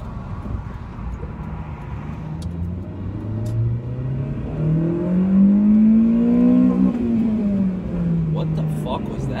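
A car engine revs hard, its pitch climbing steadily until it hits a fuel cut at 7,900 rpm, then drops back. A P1106 barometric sensor fault code is involved. The loud, close engine note carries over the whole run.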